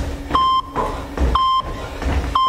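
A workout interval timer beeps during at-home ab training: short, sharp electronic tones repeating about once a second, clear and fairly loud, with nothing else competing.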